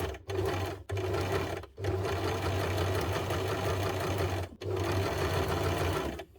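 A basic sewing machine stitching a blind hem along fabric, running in steady mechanical bursts with a rapid rhythmic whir, broken by three brief pauses, close and clear.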